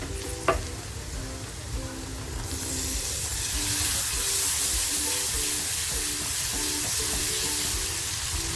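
Chopped tomato tipped into a hot pan of spinach and homemade masala for palak paneer, setting off a loud, steady sizzle that swells after a soft clatter and stays broad and hissing to the end.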